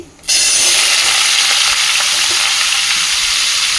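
Papaya and potato pieces hit hot oil and burst into a loud, continuous sizzle right after a brief quiet start, the frying staying strong and close with faint stirring scrapes.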